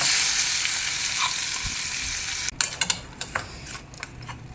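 Mint chutney tipped into a hot tempering of asafoetida and fenugreek, giving a steady close sizzle that breaks into a few sharp clatters and scrapes as it is stirred in, with no talk.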